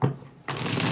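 Tarot cards riffled in a quick shuffle, close and crisp: a short flutter, a brief pause, then a denser burst of card noise with no talk.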